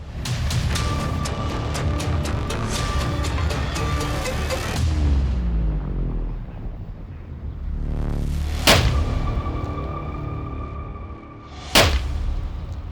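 A controlled bomb detonation by a bomb disposal team booms out amid rumbling noise, followed by a second sharp bang a few seconds later, loud and close.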